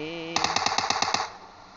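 Rapid burst of automatic gunfire in the video game PUBG Mobile Lite, about eight evenly spaced shots in quick succession, loud and close, fading into a short reverberant tail.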